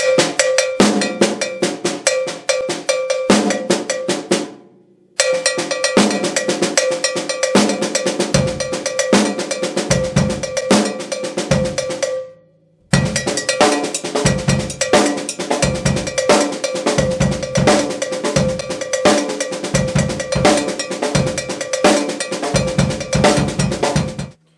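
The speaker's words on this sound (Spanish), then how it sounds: "en vez de tocar charles, yo he desplazado mi mano derecha en cencerro y hacía lo mismo" A cowbell mounted on a drum kit is struck with a drumstick in place of the hi-hat, running through paradiddle patterns (single, double, paradiddle-diddle) with kick and snare. The playing is loud and steady, with two brief pauses.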